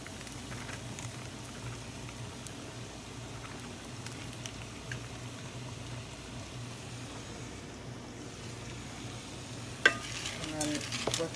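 Corn being stirred in a frying pan with a little leftover butter: a steady, soft sizzle and scraping stir runs throughout, with a sharper clatter of the utensil near the end.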